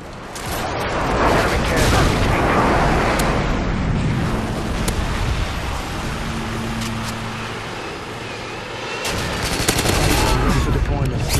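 Harrier airstrike in a first-person shooter match, with heavy, sustained rumbling explosions and bursts of gunfire rolling together, loud and dense, easing briefly before another burst of blasts near the end.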